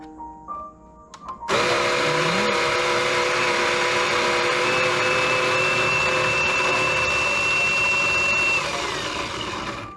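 A coffee grinder whirs loudly through water-sprayed coffee beans, starting abruptly after a moment of quiet and grinding steadily close by for about eight seconds with a slight drop near the end.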